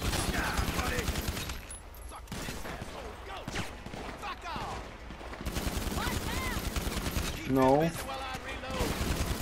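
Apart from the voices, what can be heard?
gunfire in the video game Grand Theft Auto V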